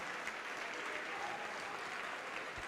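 A church congregation claps together in a steady, dense wash of applause, moderately distant and continuous for a few seconds with no voices standing out.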